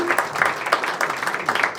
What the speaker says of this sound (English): give a nice round of applause to the Optimist members that are serving here tonight